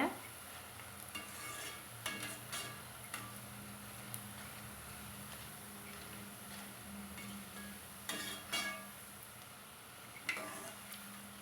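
Soft, continuous sizzling of gram flour batter deep frying in hot oil for mixer snack, with a few brief louder crackles and utensil taps, no talking.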